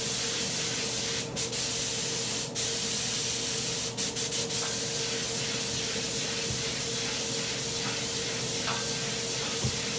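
Spray gun laying a light tack coat of Tamco HC-9500 clear coat, a steady continuous hiss lasting the whole stretch with a few brief dips where the trigger eases off.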